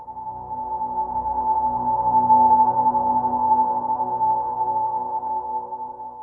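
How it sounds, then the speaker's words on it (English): A sustained, resonant ringing tone from a filter with resonance turned fully up hovers over a soft, hazy ambient guitar pad, steady and even throughout with no voices. "Notice here that the resonance is all the way up, and that's why you're getting that ringing"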